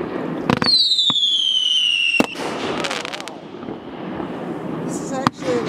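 Fireworks shot off from a raft on Bass Lake, with whistling rockets, sharp pops and crackling bursts, some loud and close, while people talk throughout.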